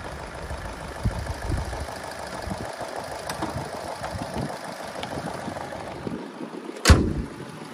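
Daewoo Lacetti CDX 1.6 automatic from 2009 idling smoothly and fairly quietly as a soft, steady low rumble, with a single sharp click near the end.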